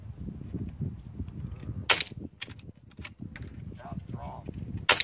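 A Hatsan Vectis .25 caliber air rifle fires outdoors with two sharp, snappy cracks a few seconds apart, the first followed by a short series of faint clicks, all over a steady low rumble of background noise and brief murmured talk.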